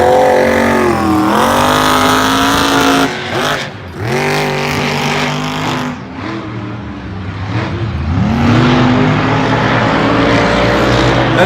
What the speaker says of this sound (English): Jim Kohler, an Avenger, steams his way to the victory